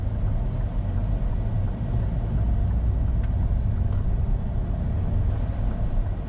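A car pulls away from a roundabout with steady engine and road noise throughout, a constant moderate rumble and no talking.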